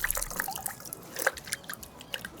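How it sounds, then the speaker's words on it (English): A paint brush is swished and agitated in a container of rinse water, making continuous soft splashing and dripping liquid sounds, close and moderately loud, with no talking. "you're gonna agitate that water with the brush again, get it really in those bristles"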